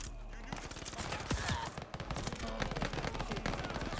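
Rapid machine gun fire from the KG M40 in Call of Duty Vanguard, dense continuous bursts with sharp repeated reports, loud and close over game ambience.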